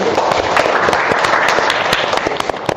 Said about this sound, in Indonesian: Tepuk tangan di kelompok 1